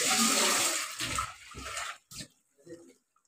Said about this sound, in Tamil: கொஞ்சம் அதுக்கு தேவையான அளவு தண்ணி சேர்த்துக்கலாம்.